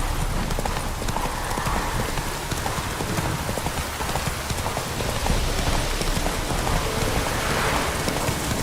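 Horse hooves gallop in a rapid clip-clop rhythm through steady rain in the video game The Witcher 3, close and continuous under a dense wash of rainfall, with no talking.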